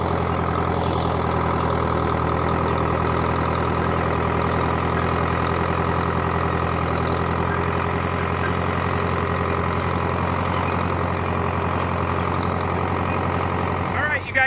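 A John Deere 500A / 3020 diesel tractor engine runs steadily at a low, throbbing idle with a knocking undertone, loud and close throughout, while a person talks over it.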